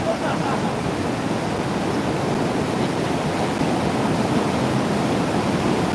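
A strong river current rushes with dense, steady, broadband roar of fast-moving water, constant and close, with no breaks throughout.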